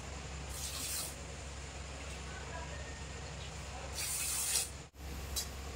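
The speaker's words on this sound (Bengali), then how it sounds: "এবার এই বাটির মাপ করে আমি 3 বাটি জল দেব।" Three bowls of water poured over two bowls of sugar in a home kitchen to start a syrup for gulab jamun, a steady hissing splash that swells briefly near the end before a short pause and a final trickle.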